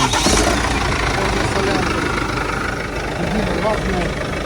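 A used van, such as a Citroën Jumper, Renault Master or Mercedes Sprinter, idles with a steady mid-pitched rumble, close and continuous, while someone talks over it.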